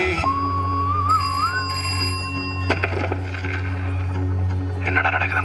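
A telephone rings with a bright electronic tone that holds steady and then wavers, layered over a constant low hum and some clatter, loud and close with no talk.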